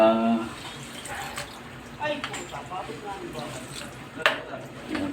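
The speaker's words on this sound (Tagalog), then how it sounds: "maglalagay na po ako ng tubig para lumambot pa siya" Water poured into a pot of adobong isaw (pork intestine adobo) as it cooks, a short splashing pour with some clinking, while a person talks over it.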